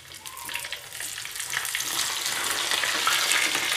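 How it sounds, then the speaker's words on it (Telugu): Tempering seeds crackle and sizzle in hot oil for a batch of instant mango pachadi. The popping is fairly close and grows slightly louder as it goes, with no talk. "చిటిపట అంటున్నాయి మన తాలింపు"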